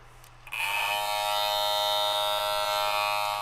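BaByliss Pro FX hair clippers switching on after a battery replacement, a steady close electric buzz that starts abruptly after a brief click and runs continuously.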